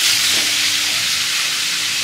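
Cumin, onion, drumstick, potato and pumpkin fry in a pan, giving a steady, loud, close sizzling hiss that holds evenly throughout with no talking.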